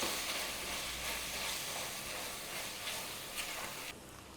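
Ginger garlic paste and garam masala sautéing in a pan for a green peas kurma, a steady soft sizzle and hiss throughout with no voices.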